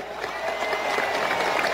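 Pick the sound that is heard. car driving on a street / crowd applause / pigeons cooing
crowd applause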